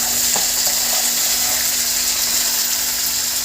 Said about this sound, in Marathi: मिरच्या छान परतून झाल्या की आपण कोथिंबीर टाकून घेणार.